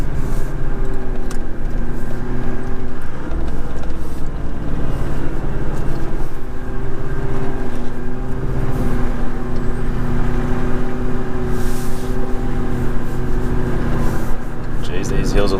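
Four-wheel drive vehicle climbing a hill track in high country, engine droning loudly and steadily with wheels turning for traction, with talking over the engine.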